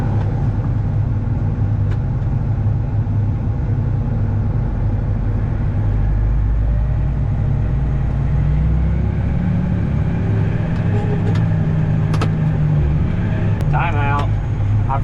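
Low, steady engine rumble from a 400 horsepower tractor rolls on as it drives into a hay field, heard from inside the cab with someone talking over it.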